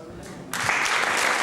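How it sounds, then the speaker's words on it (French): Church congregation breaking into applause at a consecration service, the clapping starting abruptly after a brief hush and holding as a dense, steady wash of many hands. "Applaudissons pour Jésus en remerciant le pasteur Megui pour sa contribution à cet édifice de cette journée."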